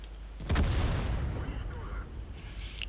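A single heavy tank cannon shot booms in World of Tanks, followed by a rolling decay and faint battle noise, with a voice speaking over it.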